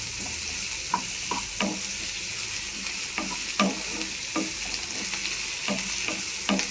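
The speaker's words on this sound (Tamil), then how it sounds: "நம்ம இஞ்சி பூண்டு கொஞ்சம் போட்டுக்கலாம்." Ginger and garlic sizzle steadily in a hot pan while a utensil stirs them in repeated short scrapes and taps, close and moderately loud.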